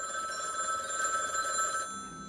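A telephone ringing during a live Christmas broadcast, a steady electronic ring tone holding for about two seconds before cutting off, clear and prominent with no talk.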